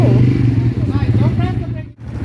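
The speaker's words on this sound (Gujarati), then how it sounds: "So friends, we are on our ATV ride, and Darshan is driving." Rumbling ATV engine on a ride in Bali, steady and close with a droning low hum and slight revving, people talking over it throughout.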